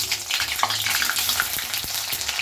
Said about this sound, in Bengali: আর এতে দিচ্ছি আমি পেঁয়াজ কুচি